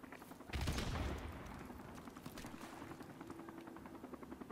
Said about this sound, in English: Friendly chopper on the way.